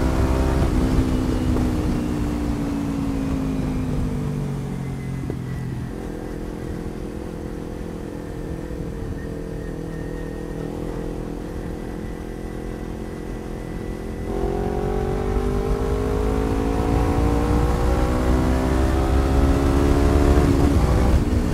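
A Kawasaki Ninja 250 motorcycle with a Jeskap exhaust fitted without its dB killer runs a steady, close engine drone, with the pitch dropping at two distinct gear shifts.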